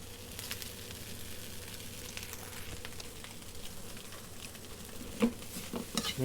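Vegan egg fried rice tossed in a hot wok, steady sizzle with scraping stirs and a few clinks of utensil on metal, close and continuous at a soft level.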